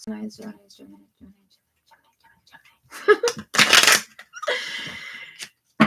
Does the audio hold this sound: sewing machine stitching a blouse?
no